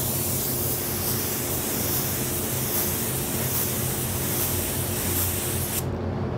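A spray gun lays a second coat of candy copper paint over a red base, a loud continuous close hiss that runs unbroken for several seconds and cuts off abruptly at the end, with no voices.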